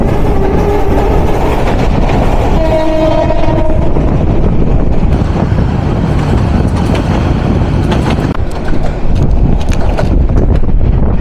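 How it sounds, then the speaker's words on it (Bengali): Titas Commuter train passing through Tejgaon railway station, a loud, continuous roar of wheels and carriages rushing past close by, with a brief horn tone early on. "Tejgaon railway station থ্রুপাস Titas commutator."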